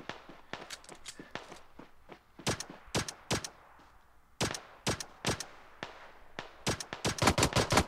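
Gunfire in the video game PUBG Mobile, sharp single shots and short bursts spaced irregularly, building into a fast rattling volley at the end, fairly close and loud with no talking.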